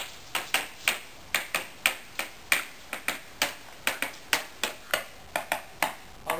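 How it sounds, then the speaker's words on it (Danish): A musical sock gives off a steady series of sharp, bright snapping clicks, roughly three per second, close and crisp with no talking. "Det er en musikalsk sok."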